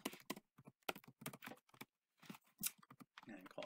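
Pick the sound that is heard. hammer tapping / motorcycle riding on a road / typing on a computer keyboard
typing on a computer keyboard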